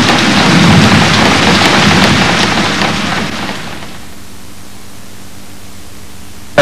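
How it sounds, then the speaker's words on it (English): Heavy rain pours down during a lightning storm, a dense steady hiss with low rumbling thunder underneath that fades after a few seconds into a quieter background. "Listen to that thunder."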